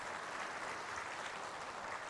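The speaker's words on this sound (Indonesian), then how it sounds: "Boleh tepuk tangan." Audience applause at a religious talk, a dense, even wash of clapping from a crowd, steady and moderately distant for about two seconds.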